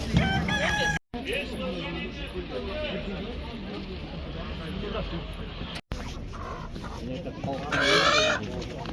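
Chickens cluck and a rooster crows amid the busy bustle of a poultry market, with people bargaining and chatting loudly throughout.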